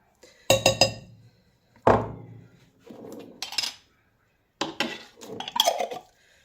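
A spoon clinks and scrapes against a bowl in short separate bursts as herring salad is stirred together with mustard, the metallic knocks close and bright with quiet gaps between them.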